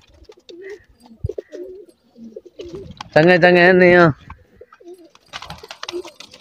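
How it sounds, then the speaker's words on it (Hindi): Pigeons kept by a pigeon fancier coo in one loud, sustained, throaty burst close by. Men chat in Punjabi before and after it, and faint bird calls are heard in the background. "ए देख नो मेरे मामे दे कबूतर हैं"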